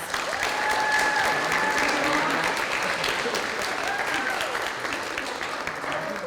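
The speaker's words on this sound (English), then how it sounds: "Let's give our BOCES seniors another round of applause." An audience at a senior high awards banquet applauds the BOCES seniors, a sustained, even wash of many hands clapping at full strength that eases slightly toward the end, with faint voices and cheering underneath.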